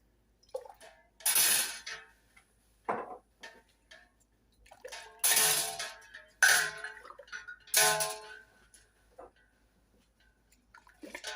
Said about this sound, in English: I'm going to start by getting my jars in the water.